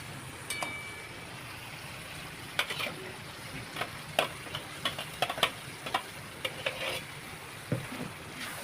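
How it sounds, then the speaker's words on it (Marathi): Ground masala paste sizzles in a pan as it is stirred for prawn biryani, with scattered sharp scraping clicks and spoon knocks over a steady low frying hiss, close and moderately quiet. "आता हे वाटलेलं वाटण घालते"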